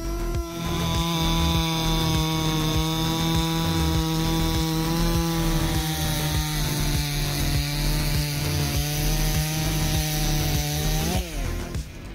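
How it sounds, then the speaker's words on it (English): Big forestry chainsaws cut through wood with a loud, steady engine whine that holds one pitch for about eleven seconds, then drops sharply as the cut ends. "Let's admire some extremely wonderful moments when sawing wood with these machines."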